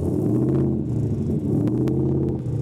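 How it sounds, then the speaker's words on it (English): A loud truck's exhaust in quiet mode gives a deep, steady rumbling drone close to the tailpipe, low and throbbing with slight pulsing variations. "I'll put my mic over by the exhaust."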